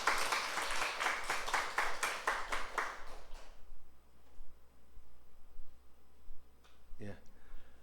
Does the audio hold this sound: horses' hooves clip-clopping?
no